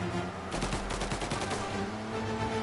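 Rapid bursts of gunfire from a firefight in the video game Mafia: The Final Chapter, dense overlapping shots crackling for about a second and a half before thinning into a lingering noisy backdrop, with no talk.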